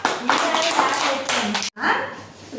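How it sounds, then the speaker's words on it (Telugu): A group of children clapping steadily in a classroom for a couple of seconds, with voices mixed in, a brief gap, then clapping resumes. "Very good, claps."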